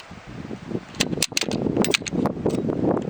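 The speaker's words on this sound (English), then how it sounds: "here's how to charge the mag from a stripper clip" SKS rifle magazine charged from a stripper clip: a quick run of close metallic clicks and scrapes as rounds are pushed down into the mag.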